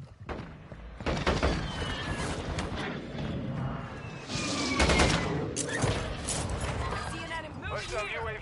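In Warzone 2, gunfire crackles as repeated bursts and scattered shots under near-continuous excited talk, with thuds and metallic clanks mixed through the fight.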